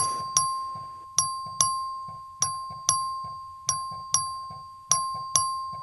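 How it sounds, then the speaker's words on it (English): A House chamber voting bell rung by the clerk during a record vote, sounding as a series of sharp, ringing dings in an irregular rhythm, each decaying slowly, over a quiet room murmur. "The clerk will ring the bell."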